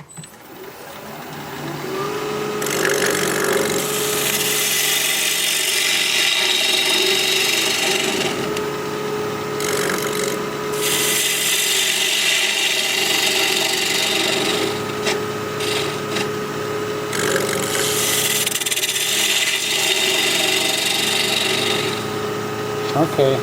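Wood lathe turning an olive wood dish, with the tool making cutting passes: a sustained hum from the spinning lathe, overlaid with repeated bursts of rough, hissing scraping as the tool bites into the wood.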